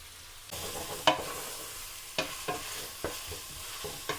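Onions sauté in a pan for mutton biryani, sizzling steadily while a spoon scrapes and stirs in several distinct strokes, close and moderately quiet.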